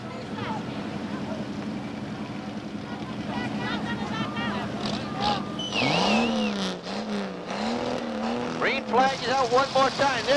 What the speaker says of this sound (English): There's your three and four, your first and second place cars coming into turn four.